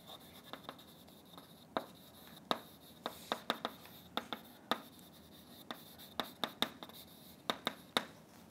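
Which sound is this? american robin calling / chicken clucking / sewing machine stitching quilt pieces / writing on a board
writing on a board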